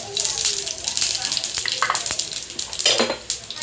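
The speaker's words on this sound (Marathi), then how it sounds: "आता तेल गरम झालं की आपण त्यामध्ये थोडीशी मोहरी की थोडंसं जिरं" Mustard seeds and cumin sizzling in hot oil in a pan, a bright, crackling fry with quick pops and spatters, loud and close, swelling again near the end.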